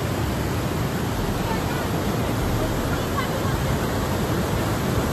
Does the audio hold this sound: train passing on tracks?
no